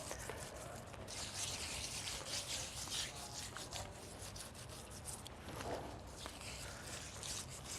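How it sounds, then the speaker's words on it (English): Hands rubbing salt into scored pork rind, a continuous close gritty rubbing and scraping that carries on steadily without pause. "So I'm just going to sprinkle some salt here and rub it in"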